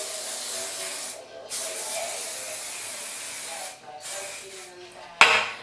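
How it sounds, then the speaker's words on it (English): Hairspray hisses in steady, fairly close bursts over twisted hair while styling beach waves, with short pauses between sprays and a sharp click near the end. "you're going to take the hairspray gun and spray down it"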